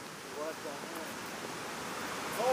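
A steady roar of rushing water fills the clip, broad and continuous like a nearby torrent, with faint wind noise.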